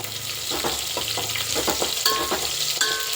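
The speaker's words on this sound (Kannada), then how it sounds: "ಬೆಳ್ಳುಳ್ಳಿ ಎಲ್ಲ ಸ್ವಲ್ಪ ರೋಸ್ಟ್ ಆಗಿದೆ ಜಾಸ್ತಿ ರೋಸ್ಟ್ ಆಗೋದು ಬೇಡ ಬೆಳ್ಳುಳ್ಳಿ" Garlic and dried red chillies fry in a pan with a steady close sizzle, broken by several quick scraping stirs and a couple of small clinks, no voices heard.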